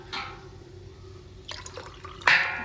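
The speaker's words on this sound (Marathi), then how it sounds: "त्याच्यामुळे एका तांब्यात आता मी ते पाणी घेते." Water runs into a small copper pot in a home kitchen, with a few short splashing pours and drips and one louder gush near the end.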